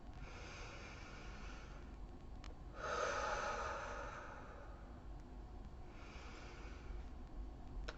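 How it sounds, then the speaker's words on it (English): A slow, deep breath during a guided heart chakra breathing exercise: a long, airy inhale swells and fades, followed by a softer exhale, heard alone over a faint steady hiss. "Big inhale and exhale."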